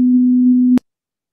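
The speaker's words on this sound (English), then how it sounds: "the different tone will play and you can test that one" A steady pure test tone from the playTOK conditioned play audiometry app holds loud and even for under a second, then cuts off with a sharp click, followed by silence.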